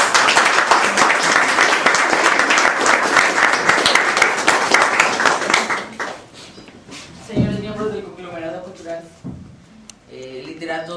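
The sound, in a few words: audience applause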